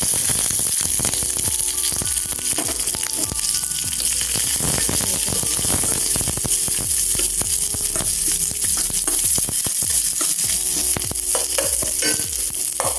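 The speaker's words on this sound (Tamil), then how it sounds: "ஸோ வெங்காயம் வதங்கிடுச்சு" Onions with mustard seeds and curry leaves sautéing in a little oil in a pan for a carrot egg stir-fry, loud continuous sizzling and crackling with repeated spatula stirs throughout, no voices.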